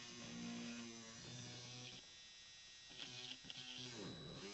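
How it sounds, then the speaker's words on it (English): A small power drill bores a pilot hole through a wooden frame behind a mini canvas, a quiet steady whine that pauses briefly and restarts, with a short stutter as the bit catches. "I'm just going to drill a pilot hole"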